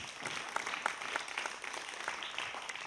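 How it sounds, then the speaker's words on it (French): Faint, steady applause from an audience at a public talk on ecological mobility, with sparse individual claps audible across the whole stretch and nothing else on top. "Bravo, on peut les applaudir, je crois."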